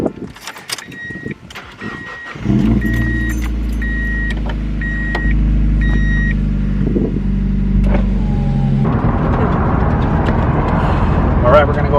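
A car idles, then drives off for a couple of laps around the block, its engine a steady low drone with a brief rise in revs midway and a rougher rumble near the end, close and continuous with no talk over it.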